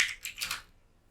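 A short burst of typing on a computer keyboard, a few quick, close key clicks lasting under a second and then stopping.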